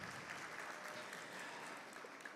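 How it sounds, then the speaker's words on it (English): Audience applause at a SOCAP18 conference session welcoming a guest, a steady, fairly faint wash of many hands clapping that holds throughout. "You all can clap it up for Kat."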